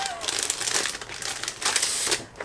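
A sheet of paper, a half-sheet of shipping labels, is handled close up, giving a steady rustling crinkle that swells and fades in bursts, with no talk.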